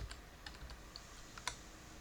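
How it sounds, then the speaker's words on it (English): A few faint, sparse keystrokes on a computer keyboard as a Windows 11 install command is typed, with soft clicks spread over two seconds and one slightly sharper tap, no voices. "I'll go ahead and type install."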